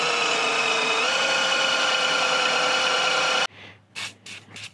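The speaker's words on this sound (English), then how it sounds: "now we're just going to drill our hole" A loud, steady whirring drill with a sharp bit grinding through tractor metal, then it stops abruptly, leaving a few faint scraping and handling sounds.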